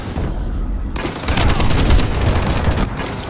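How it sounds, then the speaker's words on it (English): Missile strike explosions in a video game arrive as a dense, rumbling barrage of blasts that starts abruptly after a brief lull and keeps pounding steadily, loud and close, with a faint high whine overhead. "Friendly missile strikes incoming."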